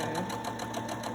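A sewing machine stitches a fabric face mask strap, a quick, even mechanical whirr with rapid needle ticks, close and steady for a brief moment.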